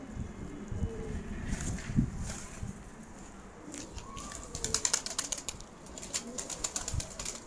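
A pigeon flying outdoors, with bursts of rapid wing flapping and scattered coos and chirps over low background rumble and occasional footsteps, the fluttering growing busier toward the end.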